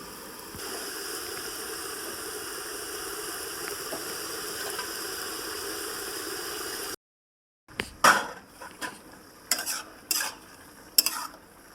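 Prawns go into a pan of ash gourd: a steady, even sizzle of frying runs for about seven seconds, then after a short gap comes a series of sharp stirring scrapes and clatters. No one speaks.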